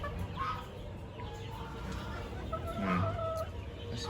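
Hens at a Philippine game farm cluck and murmur close by, with a rooster-like call near the end over steady low farmyard background noise.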